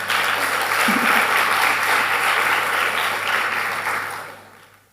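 Loud, dense applause from an audience of children and parents at a primary school graduation ceremony, steady for several seconds before fading out.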